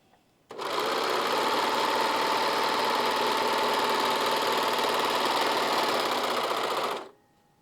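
A serger/overlocker runs steadily for about six seconds, a loud, even mechanical whir that starts abruptly and stops cleanly, pulling knotted thread straight through the needles, with no talking.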